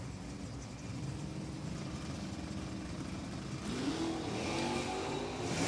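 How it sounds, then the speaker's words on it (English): NHRA drag racing cars at New England Dragway hold steady high revs against their torque converters before staging, a loud, dense engine drone with pitch rising slightly near the end. "now they bring up the revs, load the cars up against the torque converters"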